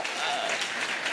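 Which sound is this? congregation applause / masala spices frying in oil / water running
congregation applause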